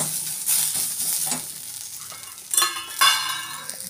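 Cumin and two cloves dry-roast in a pan for butter chicken, with a close sizzle under brisk stirring scrapes and a couple of louder clinks of a spoon against the pan.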